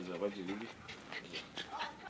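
A small female dog pants inside a car with quick, breathy, faint puffs repeating at a steady rhythm, following a brief human voice at the start.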